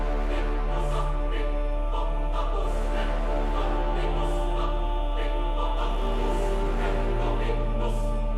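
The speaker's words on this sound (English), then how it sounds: "And let's just do all of the orchestral elements of this part." Dense orchestral music with sustained choir and brass over a steady, deep low drone, full and continuous without gaps.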